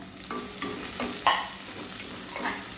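Onion sautéing over a high flame on a small burner with garlic and green chili, a steady close sizzle broken by several scraping stirs of a spoon in the pan, with no talking.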